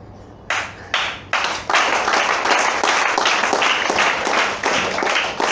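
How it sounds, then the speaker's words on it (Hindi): Scattered applause from a small audience at a business presentation begins with a few separate claps, then swells into steady, fairly close clapping from several people. "तालियां चंद लोगों की बजी हैं, कम है लगता है"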